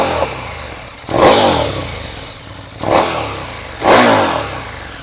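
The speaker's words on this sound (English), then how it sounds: "Let's hear the KTM." KTM motorcycle V-twin engine revved in three loud, close bursts, each blip rising sharply then falling back to a rough, lumpy idle between them.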